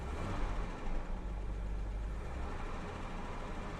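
A Jaguar XJ6 Sovereign engine idles with a low, steady rumble and faint broadband hum, fairly quiet and close, with no voices.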